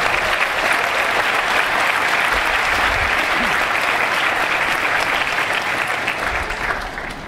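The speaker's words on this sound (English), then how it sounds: "can we have one more round of applause for them and all they have done for us?" Dense, loud applause from a large commencement audience at a medical school graduation, an unbroken wash of clapping that holds steady for several seconds before easing slightly at the end.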